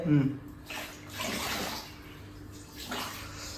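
Water pours into a container in a house, a faint, uneven splashing and rushing that rises and falls, with a brief voice at the start.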